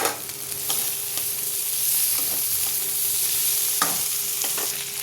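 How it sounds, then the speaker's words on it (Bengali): Cauliflower, potato, a chopped tomato and green chilli sizzle and fry steadily in a pan, with occasional stirring scrapes and clinks close by and no talking. "টমেটো যতক্ষণ না গলছে ভেজে নেবো"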